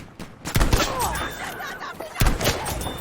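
Kar98k bolt-action rifle shots in the video game Battlefield V: two sharp, separate cracks about a second and a half apart, each with a short echoing tail over quieter game ambience.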